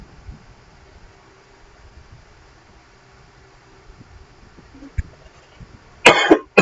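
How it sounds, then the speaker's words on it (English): A man coughs once, sharply and close, near the end of a quiet stretch of room tone during a thermodynamics lecture. "So apologies for my occasional coughing."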